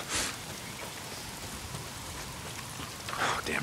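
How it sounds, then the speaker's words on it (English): Steady rain hisses down in the zombie video game Days Gone, a constant wash of falling drops with a couple of brief louder splashes, heard alone without speech. "If it's not the freaks, it's the goddamn rain. Why is it always raining?"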